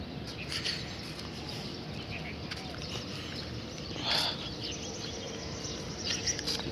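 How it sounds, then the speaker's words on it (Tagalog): Several birds chirp and sing in scattered bursts over steady city background noise on a shaded Manila morning, with calls coming at moderate distance and varying in loudness. "Marami ka rin huni ng ibon na Kahit ganito lang sa Maynila, oh."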